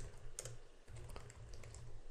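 Soft, rapid clicking of keys on a computer keyboard while a headline is typed into a page editor, quiet and close with an uneven rhythm and no voice over it.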